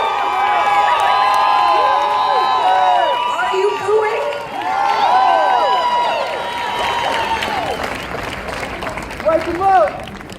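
Crowd at an MLK speech rally reacting loudly with overlapping shouts and voices, a dense swelling roar that rises and falls throughout, with a brief louder burst near the end.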